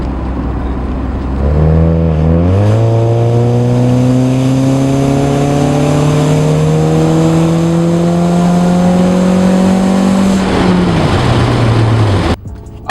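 A Honda Civic with a Yonaka Motorsports catback exhaust revs up steadily to about 3,000 RPM, its deep drone climbing in pitch and holding for several seconds before dropping off, loud and close.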